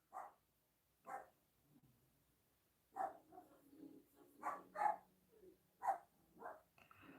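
Pet dog barking indoors, a series of sharp separate barks spaced irregularly, with a few quicker doubled barks later, moderately close and alone.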